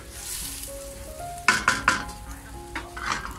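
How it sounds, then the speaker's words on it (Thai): Egg and shrimp being stir-fried for Thai fried rice: a steady sizzle under a cluster of spatula scrapes and metallic clinks against the pan in the middle, then a few softer stirs, with no one talking. "จากนั้นนะคะเราก็จะผัดจนกว่าไข่จะสุกแห้งขึ้นมาหน่อยนึงนะคะ"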